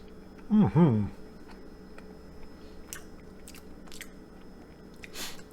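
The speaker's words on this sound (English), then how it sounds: "I'm gonna just try a piece of the meat." A bite into a piece of homemade gyro meat, one loud close bite and mouth sound early on, followed by quiet, sparse chewing clicks and faint crunches.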